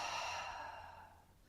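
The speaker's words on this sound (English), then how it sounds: "breathing out through the mouth" A long, soft breath exhaled through the mouth during a guided meditation, a broad airy hiss that starts fairly strong and slowly fades over about a second and a half, heard alone without talk.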